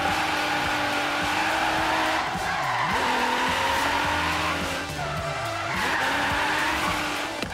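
Tires squeal continuously as a car drifts in the Forza Horizon 3 racing game, played on a Logitech G920 wheel, with engine roar beneath and pitch swoops as the angle changes, loud and close with no talk.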